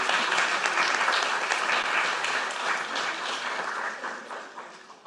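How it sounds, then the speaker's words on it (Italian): Dense, sustained applause from an audience fills a cultural heritage competition award ceremony in Veneto, with many hands clapping together at a steady level before easing slightly toward the end. "Faccio io un applauso."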